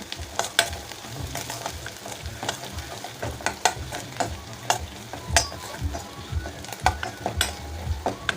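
Busy sizzling and frying in a pan with turmeric added, repeated scraping and stirring strokes, fairly close and steady throughout, with no talking.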